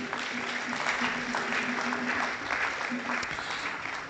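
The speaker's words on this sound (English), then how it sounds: "let's give her a round of applause" Steady crowd applause from an audience at a policy forum on the global and multilateral order, sustained for several seconds with faint voices underneath.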